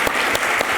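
Audience applause at an on-stage conversation with a football player, a brief burst of clapping with a few distinct claps standing out.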